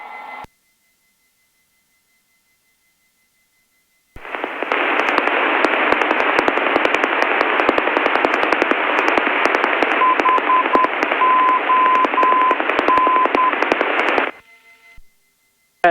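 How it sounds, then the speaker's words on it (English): Aircraft nav radio tuned to a navigation beacon, with broadband static carrying a faint Morse identifier tone in short dots and dashes for about ten seconds. "And that's nav2 Honolulu Hotel Oscar November, that's the Morse code."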